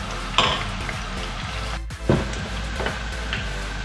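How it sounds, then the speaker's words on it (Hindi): Onions fry in hot oil in a pot while a spoon stirs them, giving a steady, close sizzle with scraping knocks of the spoon against the metal. No one speaks. "आप इसमें कंटिन्यूसली चम्मच हिलाते रहें थोड़ी थोड़ी देर बाद, ताकि आपके प्याज अच्छे से फ्राई हो जाए"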